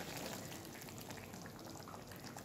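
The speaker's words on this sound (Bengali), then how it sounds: "এবার এটাকে কিছুক্ষণ ফুটতে দেব।" Chickpea curry, chana masala made without onion or garlic, bubbles steadily in a pan, a dense continuous simmering hiss with soft popping, heard alone and fairly faint.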